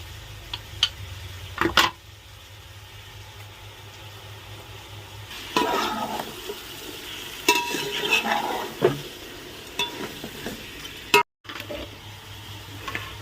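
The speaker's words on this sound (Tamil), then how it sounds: "நமக்கு மட்டனும் இஞ்சி பூண்டு பேஸ்ட்டோட சேர்ந்து 2 நிமிஷம் நல்லா வேகட்டும்" Mutton with ginger garlic paste cooks in a pan, giving a low, steady sizzle under intermittent scraping stirs and clinks of utensil against pan, close by.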